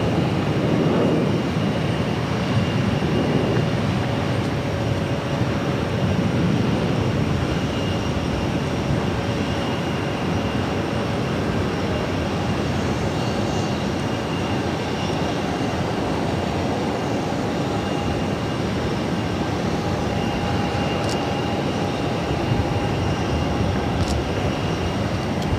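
An Emirates Boeing 777-300ER jet taxis at Boston airport, a steady loud broadband engine roar with a faint whine, continuous and unchanging for the full length.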